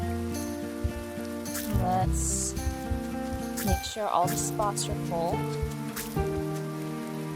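Steady rain patters in the farming game Grimshire, a soft background hiss beneath gentle game music while a person talks over it.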